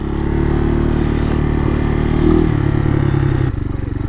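A motorcycle rides along a rough, partly muddy rural road, its engine a loud, steady drone close by, with a brief rise in revs and a slight dip as the throttle eases near the end.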